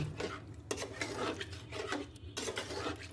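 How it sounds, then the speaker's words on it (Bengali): Whole potatoes being stir-fried over high heat in a pan, with repeated quick scraping and clinking spatula strokes over a soft sizzle, fairly close and without speech. "এখন আমি আলুগুলো ভালোভাবে কষিয়ে নেব"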